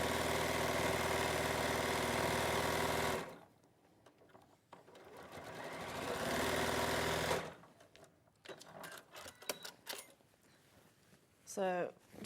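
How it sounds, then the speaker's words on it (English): Domestic sewing machine stitching fabric pieces of a wall hanging, running in two steady whirring stretches, then falling quiet while someone speaks and fabric is handled nearby. "So I'm just going to sew these last two on."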